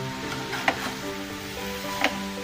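Grated carrots for khoya gajar halwa sizzle steadily in a pan over medium heat, with a few clear scraping stir strokes of a spoon against the pan cutting through the continuous frying hiss.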